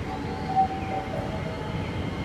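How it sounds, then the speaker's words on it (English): A JR local train passes in Kashi, Japan, on a Saturday afternoon, giving a steady, moderately distant rumble with a faint tonal whine riding over it, heard without talk. "that's a JR train. That's a local train."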